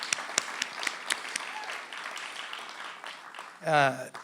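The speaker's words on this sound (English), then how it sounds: "So let's give one more round of applause." Another round of applause for community award winners at an awards ceremony, steady mid-distance clapping from a crowd, with a voice speaking briefly near the end.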